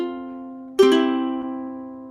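Ukulele plucked alone in a slow phrase, one sustained note ringing, then a sharp new pluck that rings on and fades, with a soft third note just after, close and clean.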